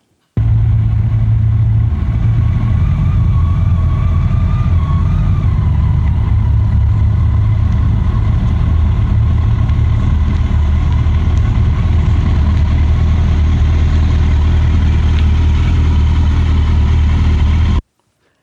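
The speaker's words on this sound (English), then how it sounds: "The goal is to engage the friction zone and power walk the motorcycle to the end point." A motorcycle creeping slowly in the clutch friction zone, its engine holding a low steady throb close by with slight rises and dips in revs, continuous and with no talk.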